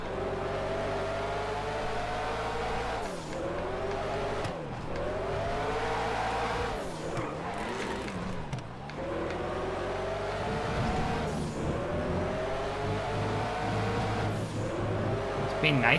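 A race car accelerates in the video game GTA FiveM during an old-school Le Mans race. The engine revs loudly and continuously through repeated rising gear sweeps, with a voice talking over it.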